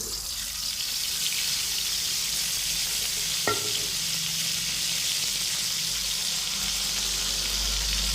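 Oil heats in a pan for hotel-style paneer lababdar, a soft, continuous hiss and sizzle with a single sharp tap midway, close and unaccompanied by speech.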